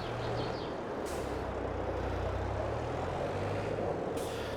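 A tractor pulling a seeder in the video game Farming Simulator 22 hums with a steady low engine drone and a faint whine, broken by two short hissing bursts of air.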